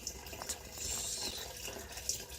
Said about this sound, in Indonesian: Nah, ini laju airnya seperti ini.